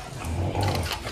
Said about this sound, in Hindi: नो नो गुर्रा देखो नो नो